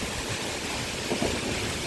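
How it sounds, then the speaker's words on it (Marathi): Heavy wind-driven rain pours in a steady, dense hiss, constant and close with no pauses. "खूप जोरात पाऊस चालू झालाय"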